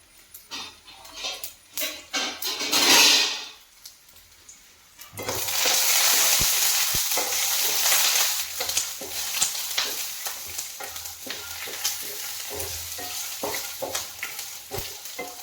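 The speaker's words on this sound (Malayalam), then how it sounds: "നിലക്കടല ഏകദേശം കുറച്ചുകൂടി ഫ്രൈ ആയിട്ടുണ്ട്" Peanuts fry in hot oil in a pan for an ivy gourd upperi snack, a steady sizzle with crackles and stirring scrapes that rises loudly partway through after a few brief clinks.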